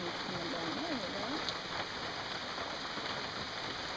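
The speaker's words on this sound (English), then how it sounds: "Got a rain shower." A rain shower falls outdoors near water as a steady, even hiss of drops spread across the whole clip, with faint birdsong chirping over it early on.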